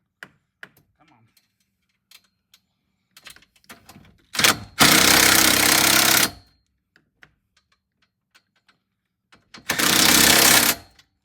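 Two loud bursts of a power tool tightening a nut on a Rockhard harness bar, each a couple of seconds of dense, harsh buzzing, separated by quiet clicks and small handling taps.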